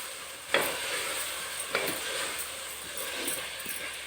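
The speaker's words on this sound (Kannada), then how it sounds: "ಇದು ಸ್ವಲ್ಪ ಚೆನ್ನಾಗಿ ಫ್ರೈ ಮಾಡ್ಕೊಳ್ಳೋಣ." Ingredients frying in oil for vangi bath, an eggplant rice dish: a steady moderate sizzle with a few sharp stirring clacks and scrapes of a spoon in the pan.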